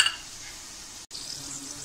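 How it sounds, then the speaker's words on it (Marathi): Chana masala spices with turmeric being sautéed in a pan give a soft, steady sizzle with light stirring, broken by a split-second silence near the middle. "आपल्याला हे व्यवस्थित असं परतून घ्यायचं आहे"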